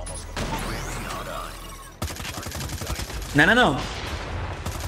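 Gunfire in the mobile shooter Call of Duty Mobile crackles in rapid bursts and single shots at mid distance, mixed with game effects while someone speaks briefly over it.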